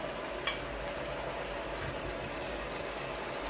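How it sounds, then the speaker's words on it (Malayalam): Fried chicken pieces dropped into cooked masala in a pan sizzle steadily, with a brief clatter as they land near the start and a continuous close, even frying hiss throughout. "ഇനി ഇതിൽ നമ്മൾ നേരെ വറുത്ത് വെച്ച ചിക്കനാണ് ഇതിലേക്ക് ഇടാൻ പോകുന്നത്"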